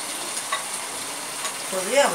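Chicken cooks in a pan for chicken bharta, a quiet steady sizzle with faint stirring scrapes, and a brief voice-like sound rising at the very end.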